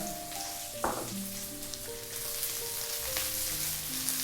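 Onion, garlic and ginger sauté in a pan with a quiet, steady crackling sizzle and a few faint stirring clicks, with tonal background sounds underneath.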